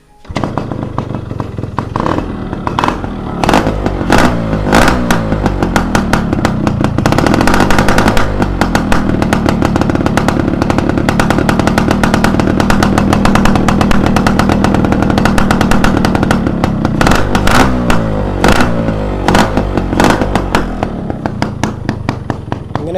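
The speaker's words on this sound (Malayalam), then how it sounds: "ഇനി നമുക്ക് ഈ ഒരു വാനത്തിൻ്റെ സൗണ്ടും കൂടെ ജസ്റ്റ് ഒന്ന് ചെക്ക് ചെയ്യാം" A Yamaha RX135 five-speed two-stroke motorcycle with an open-port tuned engine revs hard and continuously nearby, rapid crackling pops and a sustained high-rev buzz filling the scene.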